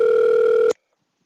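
A telephone line connecting a caller to a radio call-in show gives a steady electronic tone for about three quarters of a second, then cuts off abruptly into silence.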